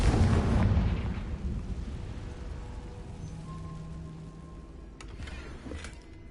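A Confringo blasting curse goes off in a Harry Potter video game, a loud low rumbling explosion at the start that fades into a long dull roll, followed by a couple of faint sharp crackles near the end.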